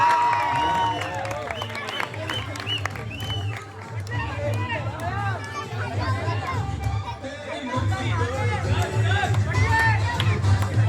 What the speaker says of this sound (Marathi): टाळ्या वाजवल्या सर्वांनी